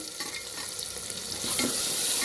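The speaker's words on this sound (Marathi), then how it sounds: "बारीक चिरलेला 1 टोमॅटो सोनेरी रंग होईपर्यंत भाजून घ्यावे" Finely chopped tomato and cashews fry and get stirred in a pan for kurma, giving a dense, continuous sizzle that swells slightly louder toward the end, with no voices.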